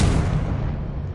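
Confringo explosive spell cast in Hogwarts Legacy, a single loud, low boom that starts at full force and decays over about a second.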